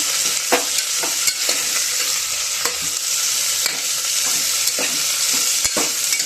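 Val bean pods sizzle steadily in hot oil for a spicy Khandeshi-style vegetable dish, a dense close crackle broken by a few sharp clicks and spatula stirs throughout, with no talking.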